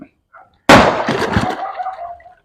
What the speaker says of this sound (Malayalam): അക്കരെ പടക്കം പൊട്ടിക്കുന്നുണ്ട്.